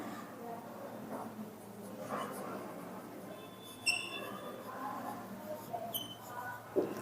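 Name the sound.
writing on a board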